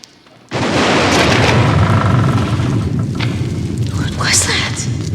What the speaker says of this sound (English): For weeks now, these explosions have grown louder and closer.